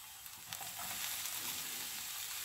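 Peppers and onion cooking in a pan, a soft, even sizzle that stays faint and continuous, with a couple of light clicks near the start and no talking.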